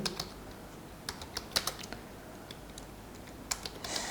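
Someone types C code on a computer keyboard, tapping out quick, close, irregular keystrokes with brief pauses between bursts.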